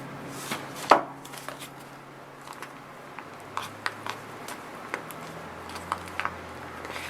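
Knife cutting in a fall-themed DIY craft project, heard as a series of sharp, irregular close taps and scrapes spread over several seconds, with one louder knock near the start.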